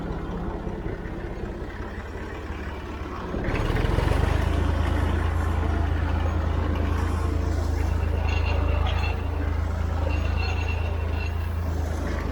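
A Massey Ferguson 50 tractor engine runs steadily and close while raking hay with a Vermeer TR90 rake in a field, a low rumbling drone that grows louder partway through and holds under wind noise.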